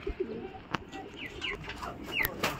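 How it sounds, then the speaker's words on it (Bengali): Pakistani teddy pigeons are let loose outdoors, with faint coos and chirps scattered over quiet background noise and a few sharp clicks. "তো কিছু টেডি কবুতর বাইরে ছেড়ে দিচ্ছে"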